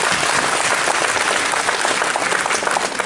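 Loud, sustained applause fills the hall at a Tripura Gramin Bank mega credit fair marking its 44th foundation day, a dense unbroken roar of many hands clapping at once with no pauses.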